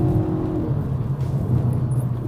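A 2019 Kia Forte GT with its 1.6L turbo engine and DCT gearbox accelerating, a steady close engine drone with a low rumbling hum and rising tone under cabin road noise, no talking.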